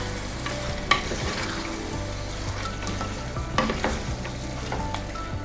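Chopped tomato is stirred into a cashew mutton curry in a hot pan: a constant close sizzle with scraping stir strokes and a couple of sharper knocks of the spoon.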